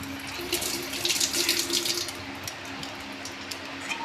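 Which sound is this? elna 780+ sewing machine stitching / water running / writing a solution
water running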